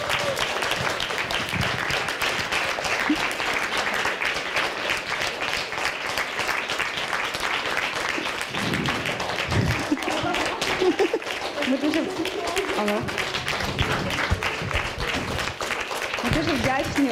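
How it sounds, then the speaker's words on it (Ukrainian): Sustained applause from an audience at a live talk event on cancer in Lviv, steady dense clapping filling the whole stretch, with a presenter's voice speaking over it partway through. "Аплодисменти всім!"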